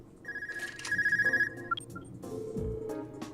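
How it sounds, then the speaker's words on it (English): A phone rings inside the video game Trails of Cold Steel II with a rapid electronic trill in repeated bursts, followed by a few chime-like tones and soft game background sounds, no voices. "Oh, phone call."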